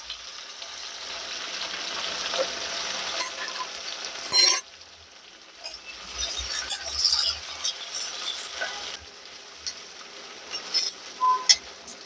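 Two small, thinly sliced onions fry in a pan, making a close, steady crackling sizzle with a sharp clatter as they go in, then rising and falling bursts of spitting oil and light stirring taps, with no talking.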